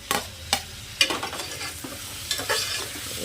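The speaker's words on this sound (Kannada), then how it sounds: "ಇದನ್ನು ಸೇರಿಸಿ ಇನ್ನೂ ಸ್ವಲ್ಪ ಚೆನ್ನಾಗಿ ಫ್ರೈ ಮಾಡ್ಕೊಳ್ಳೋಣ" Tomato and capsicum fry in a pan with a soft, steady sizzle, broken by a regular run of sharp spatula scrapes and stirs about every half second, close and without any voices.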